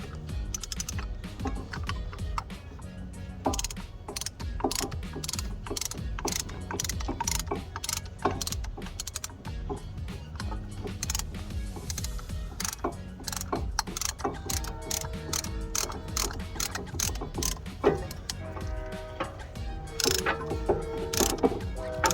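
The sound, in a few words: ratcheting brake caliper piston compressor tool threading bolt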